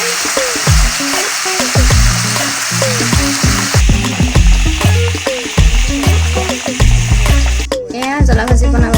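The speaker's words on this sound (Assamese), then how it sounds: "জ্বলা ভাজি বনাবৰ কাৰণে তেল দিছোঁ।" Chicken pieces fry and sizzle loudly in hot oil with spices such as clove, cardamom, cinnamon, ginger and garlic, a constant crackle broken by rhythmic scraping and stirring strokes of a spatula against the pan.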